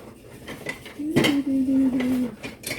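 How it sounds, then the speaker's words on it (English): Bagged corn stirred with a spoon in a dish, a sharp metallic clink followed by a ringing tone and scraping clatter, close by, with a faint voice underneath. "We'll stir our corn."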